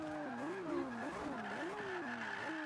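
Lamborghini Aventador in the Forza 5 racing game, a continuous engine note rising and falling through gear changes with a tire-squeal edge, loud and steady across the short stretch.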